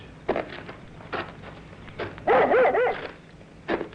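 A dog barks excitedly in a radio drama, giving several sharp bursts of barking spaced across a few seconds, with a busier cluster of yips in the middle, heard fairly close and without talk.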